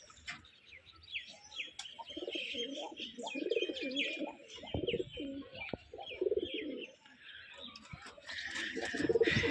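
Pigeons kept in an open yard in Bangladesh coo repeatedly in low, rolling phrases, with a chirping bird higher up and someone talking over them at times.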